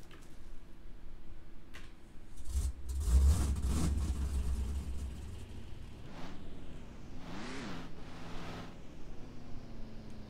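A pickup truck's engine in the Ranch Simulator video game rumbles as the truck backs up, with a loud revving surge early on, then lighter idling and shifting engine tones.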